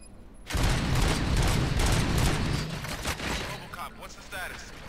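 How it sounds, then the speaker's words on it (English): Gunfire in the RoboCop: Rogue City video game, a dense burst of rapid shots and booms that starts abruptly and stays loud for several seconds before thinning into scattered cracks. "Gunshots? What's going on?"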